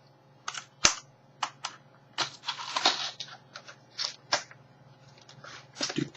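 A custom gun holster with a retention snap is fastened closed over a Glock pistol, producing a run of close, crisp snaps, clicks and leather-like rustles in quick irregular bursts.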